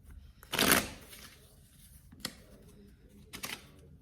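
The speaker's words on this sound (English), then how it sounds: "I'm gonna reshuffle" A deck of cards is reshuffled for a pick-a-card reading: a brisk riffling burst near the start, then a short snap and a second quieter riffle, close and dry with no talking.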